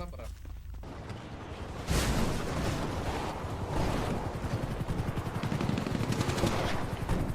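Rapid bursts of video game gunfire, quiet at first and then loud and sustained, with voices talking underneath.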